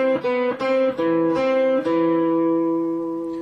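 A classical guitar plays the opening two measures of a Bach piece, a handful of plucked notes in a moving line that ends on a long ringing chord, close and clear, with no voices.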